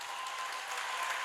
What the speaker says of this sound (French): Est-ce qu'on peut ovationner quelqu'un qui est au-dessus de tout